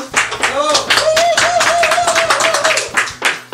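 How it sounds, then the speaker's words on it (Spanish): An audience on a late-night comedy show claps in a burst of applause, with a voice talking over the clapping throughout. "un fuerte aplauso"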